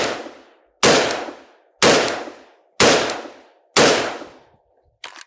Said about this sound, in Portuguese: Vou dar 5 disparos e a gente vê a medida que ficou ali.